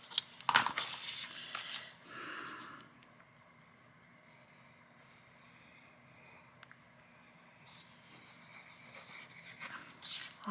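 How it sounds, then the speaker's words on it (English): Three small dogs sit close by, panting softly and shuffling. A few sharper bursts come at the start and end, and a quiet stretch sits in the middle. "All three of my little dogs are up here and they're being so good."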